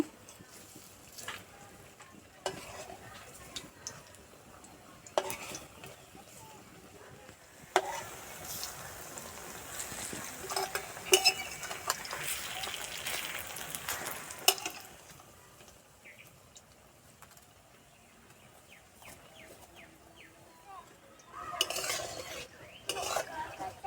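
A spatula scrapes and clinks against a pan as green pea chili fritters are turned, with a soft low-heat frying sizzle underneath, quiet and close.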